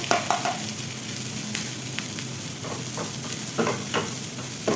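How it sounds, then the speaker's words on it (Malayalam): Grated coconut fries in a pan with browned ginger and garlic while a spoon stirs it, giving soft steady sizzling broken by sharp scraping strokes, close up and with no voices. "തേങ്ങ ചേർത്ത് കൊടുത്തിട്ട് നന്നായിട്ടൊന്ന് വറുത്തെടുക്കുക"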